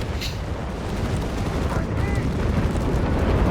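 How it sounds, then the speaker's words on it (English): A massive artillery barrage pounds the battlefield in Company of Heroes 3, a dense, continuous roll of deep booming explosions and rumble with no break. "Massive Supersonic barrage here though"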